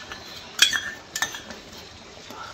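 A spoon clinks against a pot as yogurt is stirred briskly into a hot tadka, with two clear metallic clinks and lighter scraping in between.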